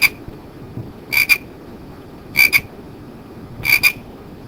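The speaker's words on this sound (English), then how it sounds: "they can touch the frog, and the frog will make the noise for them." A SMART Board interactive display plays a frog croak: three evenly spaced double-pulse calls, sharp and distinct over a quiet background.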